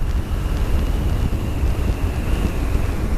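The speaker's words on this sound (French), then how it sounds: "je roule avec la visière ouverte, je vous dis, le vent est frais" Steady, loud wind buffeting the microphone while riding a 125cc motorcycle with the helmet visor open, a continuous low roar throughout with a faint engine tone underneath.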